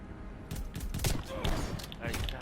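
Shotgun and pistol fire in a custom video game match, several sharp bursts and thuds spread across the moment, heard under excited talk from players.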